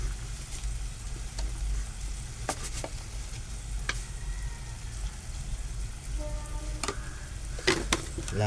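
Onion and tomato cooking in a pan with a little salt make a low, steady sizzle, broken by several sharp clinks and scrapes from stirring and a brief tonal squeak. No one speaks.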